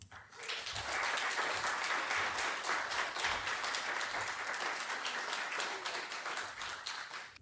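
An audience at a spring convocation session applauds to welcome a speaker to the stage, a steady wash of many hands clapping that swells quickly, holds for several seconds and then tapers slightly near the end.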